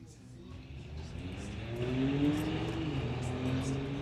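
A 2022 GMC and a Chevy S10 launching side by side at a drag strip, engines rising in a steady accelerating whine that swells and holds, heard from a moderate distance beneath an announcer's voice.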